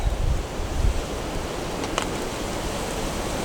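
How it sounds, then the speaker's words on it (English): Strong wind roars in a broad, steady rush at a campsite, buffeting the microphone with low thumps near the start. There is no talking. "you hear that wind? It's insanely windy."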